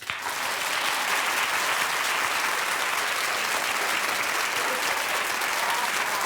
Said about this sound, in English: So clap if you think he should just let the money go